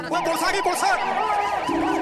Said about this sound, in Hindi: पर थोड़ी दूरी पर जाने के बाद इनको सुनाई देता है पुलिस का सायरन